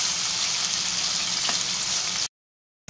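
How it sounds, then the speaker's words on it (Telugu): Bitter gourd frying in a pan while being stirred, a steady loud sizzle that holds for about two seconds before cutting to silence, with a brief return at the end. "దీనికి అన్ని సమానంగా వేగేటట్టు కలుపుతూ వేయించుకోవాలి."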